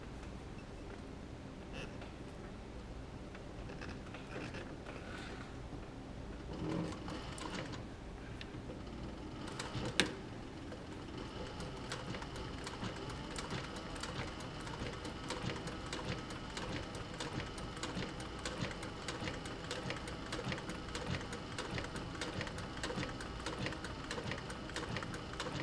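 Sewing machine top-stitching a leather camera bag, a steady fast mechanical whir and ticking running nearly nonstop at moderate volume, with a single sharp click partway through.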